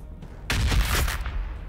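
A grenade blast in Warhammer 40,000 bursts in suddenly after a brief quiet lead-in, one loud close explosion with a rumbling, crackling tail that stays strong to the end.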